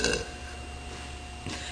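A person lets out a burp right after chewing gum, with a short throaty burst at the start and another rising at the end, close and fairly loud with no talking.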